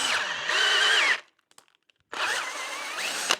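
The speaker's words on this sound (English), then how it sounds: "this is how I drill the holes. I have a drilling and tap bit." Power drill driving a drill-and-tap bit into extruded aluminum for a camp kitchen chuck box, two loud close whining bursts with a short quiet gap between them, the pitch wavering as the bit bites.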